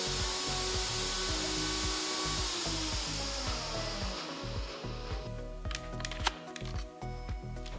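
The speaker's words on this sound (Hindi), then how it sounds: "स्मूथ होने तक पीस लेंगे।" A mixer grinder whirs steadily as it grinds chutney of roasted chana, tamarind pulp, sugar and cold water until smooth, a continuous motor drone with rhythmic pulsing that runs close and loud throughout, with a few brief clicks near the end.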